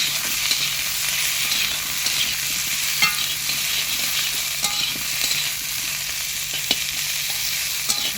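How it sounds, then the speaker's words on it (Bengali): Onion fries with potatoes in a pan for home-style Bengali cooking, a steady close sizzle with frequent spatula scrapes and taps, no voices. "পেঁয়াজ দিয়ে দিলাম, পেঁয়াজটা এই আলুর সঙ্গে ভাজা হয়ে যাবে"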